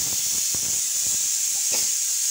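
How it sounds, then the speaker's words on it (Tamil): Pressure cooker in a home kitchen, where chicken with capsicum has been cooking, releases steam in a steady high hiss, with a few soft low knocks underneath; it is close, continuous and unbroken. "நம்ம ப்ரெஷர் குறைஞ்சோடனே குக்கரை திறந்துடும்"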